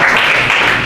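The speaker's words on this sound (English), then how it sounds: "Let's give Sue and Nacio a round of applause" Applause at a community cabinet breakfast, a steady dense wash of clapping from a room full of people, loud and continuous throughout.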